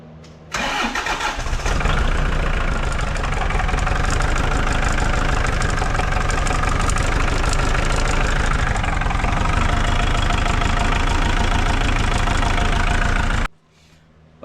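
A New Holland TC45DA tractor's diesel engine cranks briefly, catches and settles into a loud, steady idle with an even knocking chug, close by, running for about thirteen seconds before cutting off.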